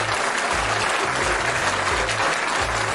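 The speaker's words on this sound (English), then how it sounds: "Let's give him a round of applause." Steady, dense applause from a pregame crowd at a 49ers vs Broncos talk show, loud and continuous throughout with no break.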